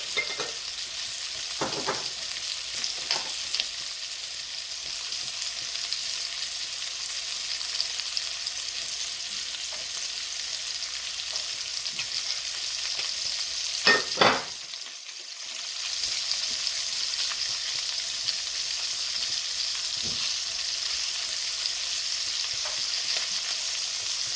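Beef pieces brown in oil in a pan for a red wine stew, a continuous close sizzle and crackle with occasional clinks of tongs turning meat and one louder scrape midway, no voice.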